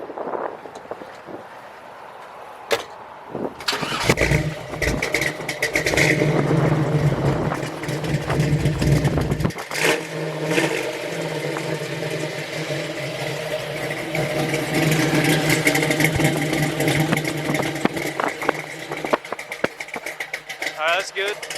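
A 1980 Jeep CJ7 engine starts up with a sharp burst, then idles and revs loudly with a steady rumble, with some voices and wind noise mixed in.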